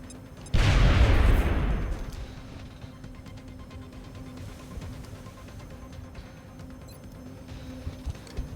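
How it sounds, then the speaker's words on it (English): A grenade explodes in the XCOM Long War video game: one loud, close blast that rumbles and fades over about a second and a half, leaving quiet ambient hum. "Grenade out."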